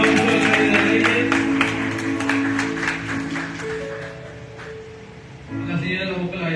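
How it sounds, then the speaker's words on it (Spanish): Crowd applause at a church gathering, a thick wash of clapping that fades over several seconds while sustained musical tones carry through, with voices rising again near the end. "Un aplauso al Rey de Reyes."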